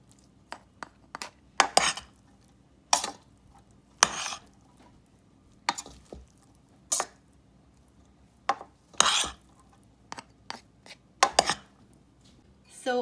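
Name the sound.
mixing ingredients into mushroom rice in a pot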